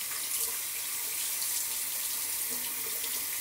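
Tap water runs steadily into a sink during a wet shave, a constant bright hiss and splash that carries through the whole clip close by, with no talk.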